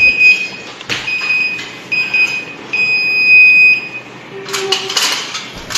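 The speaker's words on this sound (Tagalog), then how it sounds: "Pag may narinig kayo na long beep, ibig sabihin yun yung error niya." A high electronic beep from a Daikin VRV S air conditioner signalling a U4 error sounds in several short bursts, then holds as one long tone, followed by clattering and a brief lower buzz.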